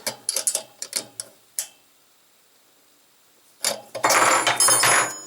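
Nut on a valve rocker of a 1955 Panhard Dyna Z1 engine being tightened, heard as a quick string of close metallic ratchet clicks, a pause with one lone click and near silence, then a louder, denser burst of tool noise.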